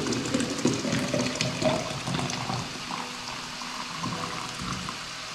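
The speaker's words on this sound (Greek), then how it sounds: "Λίγο να φέρω από το βραστήρα το νεράκι μου." Boiling water pours steadily from a kettle into a vessel for a few seconds, a close liquid splash that gradually softens and thins out.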